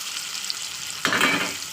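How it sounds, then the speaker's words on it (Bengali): Bean paste dropped into hot oil bursts into a loud sizzle partway through, frying close up with a scraping spatula stirring it, alone without talk. "এবার আমি ভালো করে খুন্তির সাহায্যে তেলের সঙ্গে পুরো মিশিয়ে দেবো"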